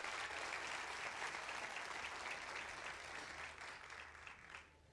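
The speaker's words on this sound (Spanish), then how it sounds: "Denle un fuerte aplauso a Dios por eso." A church congregation gives loud, sustained applause during a sermon, steady for several seconds and then easing off slightly toward the end.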